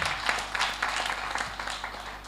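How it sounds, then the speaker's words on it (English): Applause from an audience at a women's fintech hackathon, thanking the speaker Paul; a steady, moderately quiet patter of many hands clapping through the whole stretch, with no talk over it. "Another round of applause for Paul."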